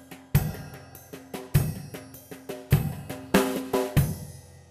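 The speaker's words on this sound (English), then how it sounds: "You can also do a drum fill with triplets. I like using the cymbals" Drum kit fill played in triplets with cymbal hits, a series of crashing cymbal strikes over bass drum and tom accents in a driving triplet pulse, loud and close, ringing out at the end.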